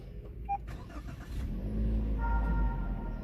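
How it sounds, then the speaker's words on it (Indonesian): A Toyota Avanza started with its push-start button: a brief click and starter crank, then the engine catching and settling into a steady low idle hum. "cukup kita tekan start engine button ini sambil injek rem dan pedal kopling"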